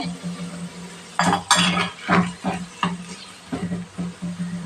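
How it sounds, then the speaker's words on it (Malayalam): A metal spoon scoops papaya curry from a pot into a serving vessel in a Kerala kitchen, with a handful of close, irregular scrapes and clinks against the metal, each standing alone over a low hum. "ഇനി ഇത് ഒരു പാത്രത്തിലോട്ട് കോരി വെക്കുവാണ്"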